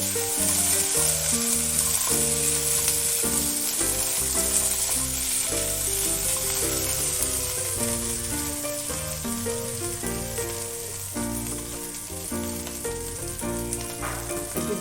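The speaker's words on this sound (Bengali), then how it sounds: "সব কিছুর সঙ্গে আলুটা একটু ভেজে নেব।" Potatoes fry in a pan for a spinach-stuffed pakora filling, producing a continuous bright sizzle that runs under steady background music.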